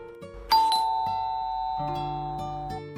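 A doorbell chimes with a bright two-tone ding-dong, then its tones ring on and slowly fade in a quiet indoor space.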